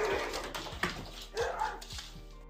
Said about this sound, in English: I feel so bad for this dog. It's so scared.